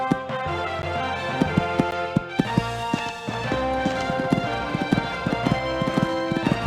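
Horse hooves pounding on an eventing cross-country course, a rapid irregular drumming of strides under a steady band of crowd and ambient noise, fairly close.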